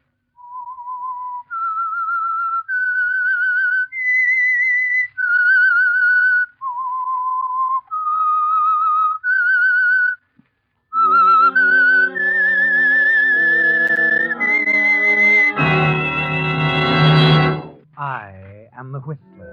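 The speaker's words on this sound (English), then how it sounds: "That whistle is your signal for the Signal Oil program," Whistled theme tune from The Whistler 1948 radio drama: a lone whistle traces a slow, haunting melody, then orchestral music swells beneath it and builds to a loud chord before fading.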